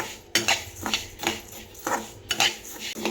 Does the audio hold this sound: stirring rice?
yes